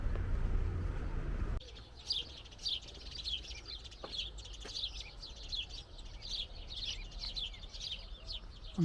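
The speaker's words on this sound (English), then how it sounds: "I'm sure you can hear the sparrows" Sparrows chirp outdoors on a summer coastal walk from Boston to Skegness, bright quick tweets repeating in rapid bursts, fairly close, after an initial low rumble of wind or movement cuts off.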